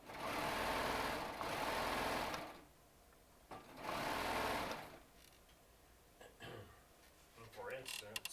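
A Baby Lock serger runs in two long fast bursts while sewing jelly roll charm squares, loud and close, with quieter gaps of handling sounds and a voice speaking softly between.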